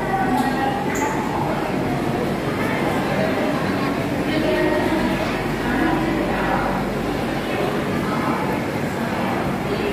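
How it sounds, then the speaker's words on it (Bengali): The 12245 Duronto Express from Howrah to Tirupati runs with a steady, loud rumble and rattle of wheels on rails, unbroken for the whole stretch, with faint voices underneath. "আমাদের ট্রেন"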